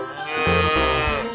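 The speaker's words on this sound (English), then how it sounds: "No, it's a cow." A cow lets out a single drawn-out, tonal moo that rises and wavers, loud and close, with nothing else around it.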